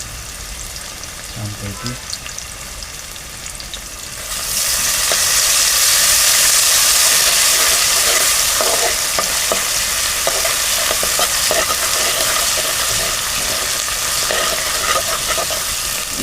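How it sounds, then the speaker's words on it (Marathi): Ginger-garlic paste hits a hot pan and fries with a loud, steady sizzle while a spoon stirs it. A voice speaks briefly before the sizzling swells. "1 चमचा आलं लसूण पेस्ट. आपण ढवळून घेऊया"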